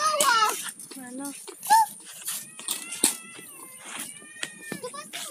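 A kitten gives several thin, high-pitched mews at irregular intervals from beneath a tree outdoors at Jakabaring Sport City, while people talk nearby.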